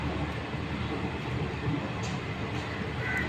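A train pulls in at platform 2 of Yeshwantpur station in the dark, its broad low rumble and steady rolling noise filling the scene, fairly close and continuous with no talk.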